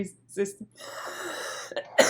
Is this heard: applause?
no